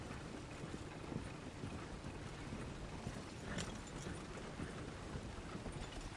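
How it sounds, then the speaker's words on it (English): Horse hooves clip-clopping steadily in Red Dead Redemption 2, a continuous close rhythm of hoofbeats over a wind-like rushing background, with no voices. "I think the horse is getting skittish."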